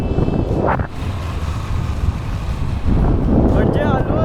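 Wind buffets the microphone at Nandgaon beach on the Murud coast, with a broad wash of waves and surf underneath, growing louder near the end while a voice speaks briefly.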